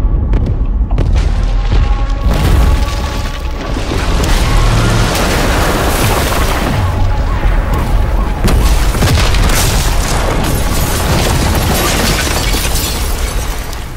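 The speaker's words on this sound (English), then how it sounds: "Got reports of multiple explosions in Verdansk." Multiple explosions rip through Verdansk in the Call of Duty: Warzone video game, a dense, loud, continuous roar of booms and rumbling debris that fills the whole stretch without letting up.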